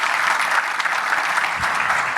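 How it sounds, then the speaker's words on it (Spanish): An audience applauds after a conference talk on drone photogrammetry, a dense, steady clapping from a hall crowd lasting throughout. "se reúnen los aplausos para, obviamente, despedirlo a él"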